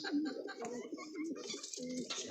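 A male racing pigeon gives soft, throaty coos in a few short rolling phrases, close and fairly quiet, with no other sound competing.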